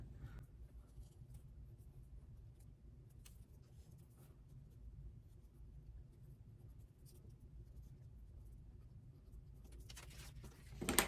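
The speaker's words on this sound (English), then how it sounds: "Now I'm just going to trace on my scrap on the back." Quiet scratchy pen strokes trace an ornament pattern onto the back of a scrap of cork, soft intermittent scribbling over a low background rumble.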